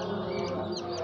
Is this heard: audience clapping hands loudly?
no